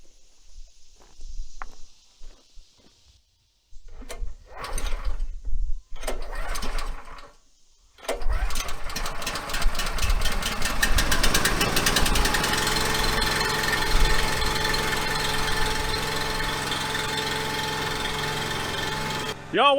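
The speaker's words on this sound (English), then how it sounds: "while this splitter's warming up, first time I've cranked on the third pull. Got it at about half throttle, letting that Honda warm up" The Honda engine of a log splitter, started with a pull cord: scattered knocks and bumps come first, then the engine catches and settles into a steady, loud, close drone at about half throttle as it warms up.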